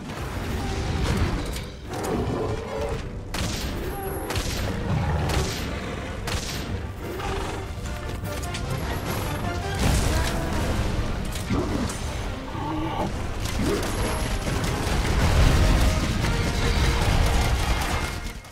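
A hunter firing at a monster in Monster Hunter: World, dense repeated shots and booms with mechanical clanks and crashes, loud and continuous, layered with game music and effects.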